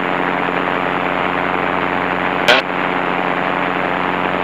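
A small airplane engine drones loudly and steadily up close, one continuous roar with a brief click partway through.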